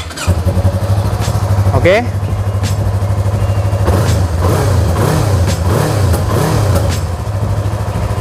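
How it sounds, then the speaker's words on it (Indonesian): A Yamaha MT25 250cc motorcycle engine fires up and settles into a loud, steady idle nearby, then revs in several rising and falling bursts; a brief spoken word comes early on. "jadi kalian bisa mendengarkan suara asli dari Yamaha MT25"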